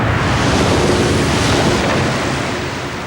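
Continuous roar of ocean waves and strong wind at sea, loud and unbroken, with the rushing noise easing slightly at the end.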